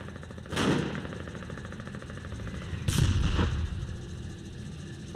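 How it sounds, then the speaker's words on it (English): Two heavy artillery blasts from the Foxhole video game, each a short, rumbling boom a couple of seconds apart, moderately loud and somewhat distant over a low background noise. "Whose artillery is that?"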